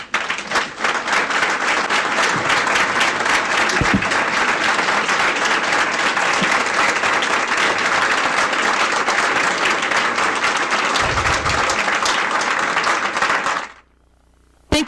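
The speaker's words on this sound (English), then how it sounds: "if they could stand up and we can give them a round of applause" A large audience gives a sustained round of applause, dense even clapping filling about fourteen seconds before stopping abruptly, with no voices over it.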